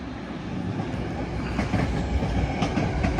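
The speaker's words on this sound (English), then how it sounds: "here comes the BART train" An eight-car BART train pulls into Richmond station, a steady loud rumble with rhythmic clickety-clack of wheels over rail joints building throughout, heard alone without voices.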